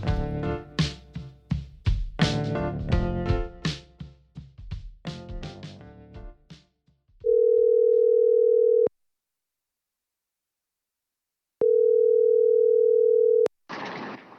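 Telephone dial tone when placing a call, two steady long beeps with a silent gap between them, heard after a stretch of muffled tapping and clatter, no voices.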